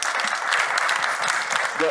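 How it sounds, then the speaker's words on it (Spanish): A seated audience at a panel discussion gives the panelists a round of applause, steady dense clapping throughout, with a voice briefly heard underneath near the end. "que le demos un aplauso a nuestros panelistas"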